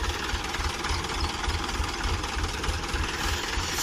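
A Mahindra 475 DI or New Holland 3600 Heritage Edition tractor engine labors steadily while hauling a loaded sugarcane trolley, a continuous loud diesel drone with a rough low throb and no talk.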